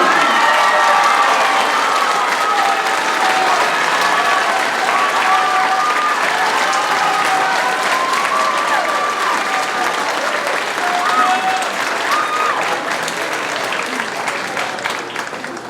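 A marching band audience at a high school ice cream social claps steadily, dense applause sustained for several seconds with scattered voices and a slight fade toward the end.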